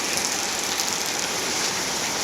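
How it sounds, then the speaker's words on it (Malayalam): Heavy rain pours steadily on the way home, a dense, even hiss that fills the whole stretch with no voices over it. "നല്ല മഴ കേട്ടോ, മഴയാണ്."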